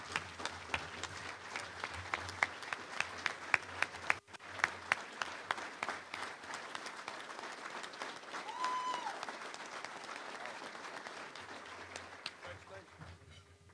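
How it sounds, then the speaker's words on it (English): Applause breaks out at a Little Rock Touchdown Club luncheon for high school junior Parker Ross, named Player of the Week: steady clapping from a sizable crowd, brief louder bursts early on, voices and movement mixed in throughout. "So let's give him a little round of applause."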